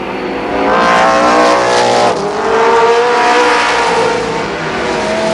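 Race cars roar around Columbus Motor Speedway during a 20-lap main event, including a V8 Ford running with trouble, engines loud and continuous with layered droning pitches as the pack circles close by.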